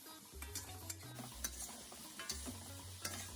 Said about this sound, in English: To this, I'll add the rest of my vegetables and I'll stir fry it for another minute